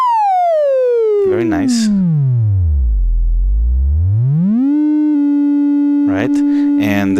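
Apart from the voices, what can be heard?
synthesizer oscillator sine wave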